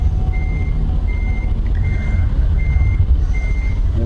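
A heavy truck in American Truck Simulator backs up slowly with a steady engine rumble while its backup alarm beeps in a regular repeating rhythm, loud and close, with no talking.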